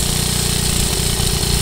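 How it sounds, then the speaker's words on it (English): A small engine with a bad centrifugal clutch bogs down, a steady low pulsing chug with rough, rattling texture, loud and close throughout. "More engine bogging."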